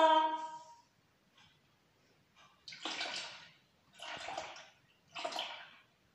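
Milk poured into a measuring jug for homemade yogurt, heard as three short close splashing pours in a row after a brief opening sound, with quiet gaps between.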